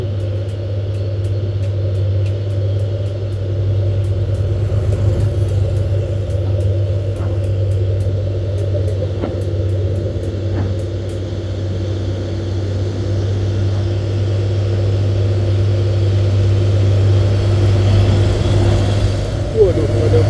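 A green-cabbed Hino trailer truck labors up a hill, its diesel engine holding a deep, steady drone close by that grows slightly louder toward the end.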